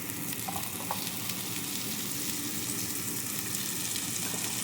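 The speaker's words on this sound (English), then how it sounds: "So we're going to add the shallots." Shallots sizzling in hot oil left from frying steak, a constant crackling hiss with faint stirring scrapes, close and steady throughout with no talking.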